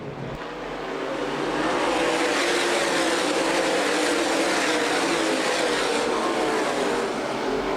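USA Modified Series stock cars race at Winchester Speedway during the 2011 World Stock Car Festival, a loud continuous roar of several engines at full throttle, close and sustained with no voices.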